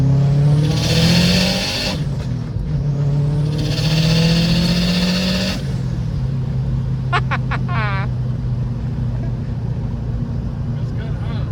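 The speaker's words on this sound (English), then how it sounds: "It's like a clean wastegate sound." A Subaru WRX fitted with a Perrin blow-off valve accelerates hard through two rising engine pulls, each ending in a sharp whooshing release, followed by fluttery chirps and a steadier cruise, loud and close from inside the car.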